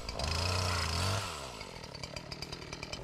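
A chainsaw bucks a long, thin tree into logs while clearing a mountain overlook trail. The engine screams under load for about a second, then drops to a lower, uneven idle with rattling chatter close by.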